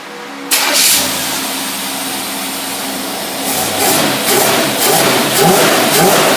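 Engine fed by two AFB four-barrel carburetors on a single intake, idling smoothly with no load, loud and close, a steady mid-pitched drone that swells slightly as it revs, with no talk.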